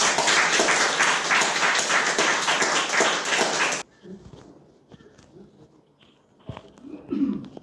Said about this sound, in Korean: 박수로 좀 맞아주십시오.